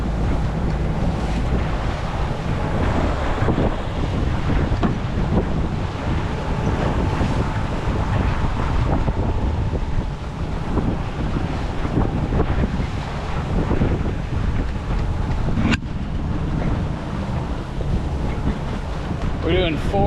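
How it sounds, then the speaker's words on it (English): Strong wind buffets a sailboat at sea with the engine idling, a loud, continuous roar of gusts and wind noise on the microphone mixed with waves and water rushing past the hull, unbroken for the full stretch. "there's too much freaking wind"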